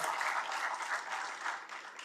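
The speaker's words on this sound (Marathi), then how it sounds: "त्यांच्याकरता जोरदार टाळ्या हे आपण सगळ्यांनी वाजवल्या पाहिजेत" Audience at a public gathering with the Maharashtra Chief Minister in Gadchiroli applauding loudly, a dense, steady burst of many hands clapping close by, fading slightly at the end.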